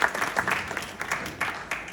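An audience at a Bhagwat Katha gathering with Swami Ram Kamal Das claps together in a steady burst of applause, dense and fairly close, with no voices rising above it.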